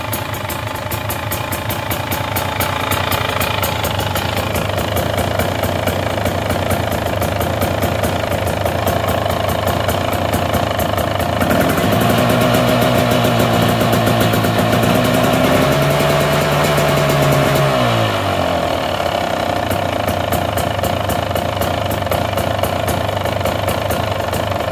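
A 2023 KTM XC TX 300 two-stroke dirt bike engine idles steadily and loud throughout, with a brief rise in revs just off idle before it settles back to a rough, even idle.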